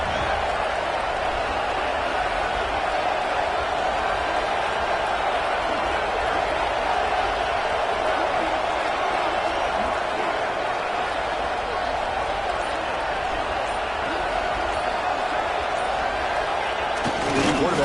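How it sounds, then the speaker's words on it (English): A football stadium crowd near the goal line roars in a sustained, dense wall of noise, loud and even throughout, with no clear single voices. "The crowd really making some noise now, trying to help out this defense to get this stop near the goal line."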